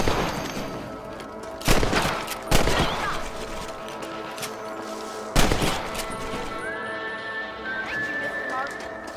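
Gunshots ring out while rabbits are hunted in the video game Red Dead Redemption: three loud, sharp cracks spaced a few seconds apart over outdoor game ambience.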